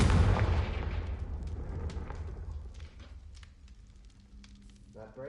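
A loud fiery blast bursts at the start of a Confringo fire spell in the Hogwarts Legacy video game, then crackles and sizzles away over several seconds, leaving softer game sounds and a brief rising whoosh near the end.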